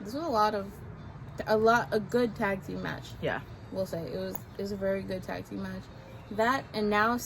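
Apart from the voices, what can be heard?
No everyday noises stand out.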